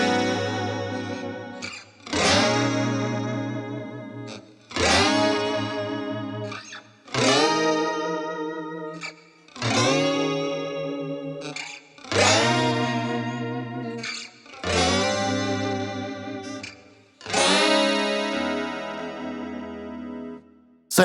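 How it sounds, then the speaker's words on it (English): Electric guitar chords in a spacey 1990s style, each scooped up with the whammy bar under heavy effects with chorus and reverb; eight sustained swelling strums, roughly one every two and a half seconds, loud and alone. "I'm also scooping in with the whammy bar."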